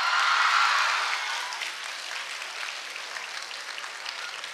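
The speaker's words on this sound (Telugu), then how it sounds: "చూసారా, మాధవీలత గారు కూడా క్లాప్స్ కొడుతున్నారు." Audience applause fills a room, loud and dense at first, then thinning to a softer patter of scattered claps.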